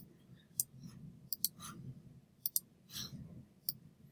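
A computer mouse clicks crisply and close by. The clicks come in quick pairs and singles over a quiet background hum, with no talking.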